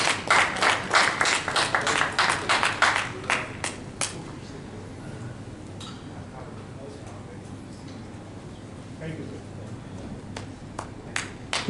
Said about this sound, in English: A big applause for the participants from Zahur Die Casting.